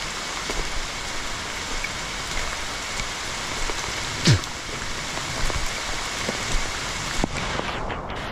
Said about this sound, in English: this is what the rain's like